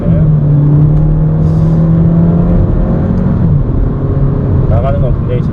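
Kia Soul Booster with a 1.6 turbo engine downshifting and accelerating hard, a steady, loud in-cabin engine drone rising in pitch, with a shift near the middle and someone speaking over it.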